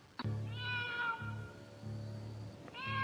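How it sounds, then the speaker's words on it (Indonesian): A cat meows on the roof of a house: a long, drawn-out meow followed by the start of another, close and clear over a low, steady background hum. "Oh, Restu, aku mendengar suara seekor kucing di atas atap rumah."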